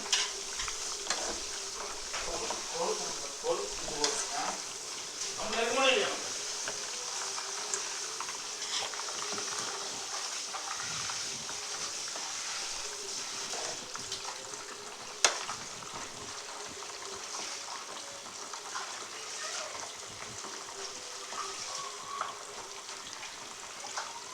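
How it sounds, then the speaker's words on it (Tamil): Homemade herbal coconut hair oil with hibiscus leaves bubbling and crackling steadily in a pan, a continuous soft sizzle with occasional louder pops and stirring noises. "எண்ணெய் நல்லா கொதிக்கட்டும்."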